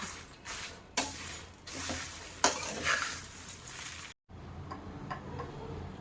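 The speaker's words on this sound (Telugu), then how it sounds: "కింద ఉన్నాయి మాడిపోయే ఛాన్సెస్ ఉంటుంది కాబట్టి మనం ఇలా తిప్పుతూ ఉండాలి" Whole garam masala spices are turned in a hot kadai while dry-roasting, giving soft scraping stirs and light ticking clinks, quiet and close, with a brief pause before the stirring resumes.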